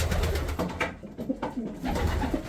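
Pigeons, pink Spanish and posta breeds kept in a coop in Germany, coo in soft repeated low throaty calls at close range, several birds overlapping continuously.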